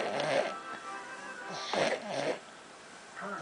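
Loud, rough snoring from a sleeping man, sounding like a lawnmower failing to start: ragged rattling breaths in uneven bursts, close and indoors, with no talking.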